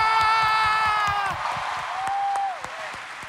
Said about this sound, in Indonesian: Tepuk tangan dong untuk Eli.